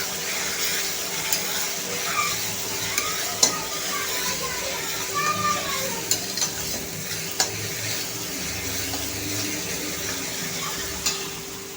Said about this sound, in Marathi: ही मिरची आलं आणि लसणाचा कच्चेपणा जाईपर्यंत आपल्याला फ्राय करून घ्यायचं आहे छानपैकी